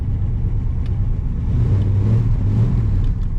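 A 1966 Pontiac Grand Prix barn find engine drones steadily up close in drive, revving gradually higher as it strains against a stuck wheel, with faint clicks over the hum.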